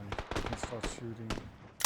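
Video game gunfire from a shooter, a series of short sharp shots with broadband bursts, mixed with voices and harmonic speech-like sounds, ending in a loud burst.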